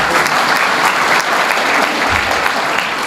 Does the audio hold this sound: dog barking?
no